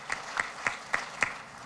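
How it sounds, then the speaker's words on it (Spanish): A few sharp claps spaced about evenly, faint and thin, at a formal democratic-values award ceremony, each one a single crisp hit with quiet between. "Y el aplauso a este video"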